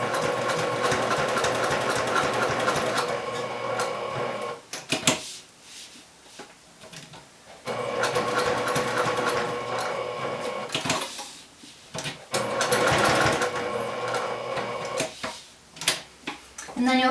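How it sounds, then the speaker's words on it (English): A sewing machine stitches a bag handle, running in long steady bursts of rapid mechanical whirring, separated by short pauses with faint handling clicks, close and fairly loud throughout. "And then you'll back stitch and sew down the side."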